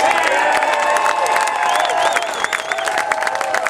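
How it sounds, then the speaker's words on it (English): A large outdoor protest crowd on statehouse steps claps and cheers for police officers and state troopers, a loud, dense, sustained wash of applause with scattered shouts. "let's give a nice applause to our wonderful police officers and state troopers"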